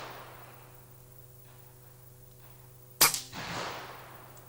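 A single air rifle shot, a roughly 30 foot-pound hunting gun, gives one sharp crack followed by a short fading thump, close and alone after quiet background hum.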